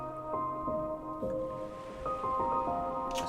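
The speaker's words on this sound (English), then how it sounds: "I've got a piano sample here" Piano sample played through a Qubit Nebula granular Eurorack module, giving a series of soft, overlapping sustained tones with gentle note onsets over a diffuse wash, in an ambient soundscape setting.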